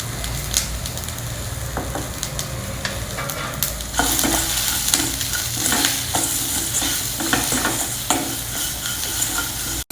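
Onions fry with salt in a pan, giving a continuous close sizzle that grows louder partway through, with repeated scraping stirs and light clinks of a utensil, and no voices.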